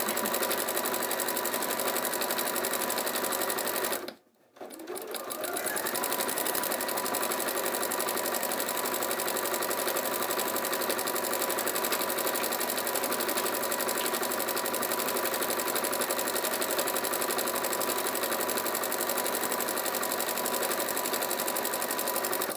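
A sewing machine stitches along the seam of a fat-quarter summer bag, running steadily and close for the whole stretch with one brief stop near the start before resuming its even mechanical whir.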